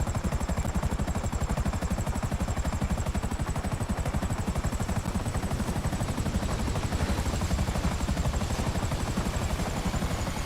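A helicopter in GTA 5 Online thrums close by, with a fast, steady rotor chop and a constant high engine whine, loud and unbroken throughout.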